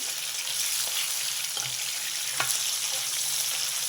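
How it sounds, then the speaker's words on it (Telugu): Boiled, drained bitter gourd pieces frying in hot oil, a constant close sizzle with occasional light scrapes and taps from stirring. "ఇవి కొంచెం నూనెలో వేయగాలండి ఇలా నూనెలో వేపి పులుసులో వేసుకుంటే చాలా బాగుంటుంది"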